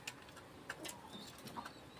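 Pigeons in a loft, faint soft coos and a few chirpy calls, distant and quiet against a light background hiss.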